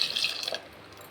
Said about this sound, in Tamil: மிக்ஸி கழுவுனா தண்ணியும் நம்ம இதுலேயே ஊற்றிக்கலாம்.